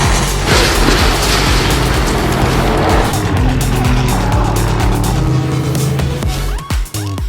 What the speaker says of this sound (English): The Nissan engine is a big, rumbling, very American muscle car style V8